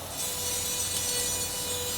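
A surgical drill grinds steadily into temporal bone during an ear bone dissection. The hissing, whirring burr noise is continuous and fairly loud for the whole stretch, with no speech over it.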